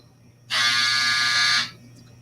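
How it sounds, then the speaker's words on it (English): A home clothes dryer sounds a single loud, steady electronic buzz lasting about a second, then stops, leaving a quiet room. "That's my dryer."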